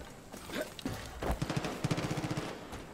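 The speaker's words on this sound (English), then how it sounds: "That sounds a gunfire over there." Distant automatic gunfire in the video game Far Cry 5, a few scattered shots followed by a quick rapid burst of rounds, moderately loud against ambient game sound.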